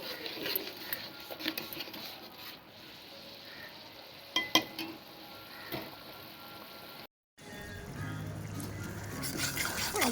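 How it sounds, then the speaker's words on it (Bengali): Spice masala and water stirred in a cooking pot, giving a soft, steady scraping and bubbling texture that is faint and continuous, with a brief dropout partway through and no speech. "ভালো করে নেড়ে নেব।"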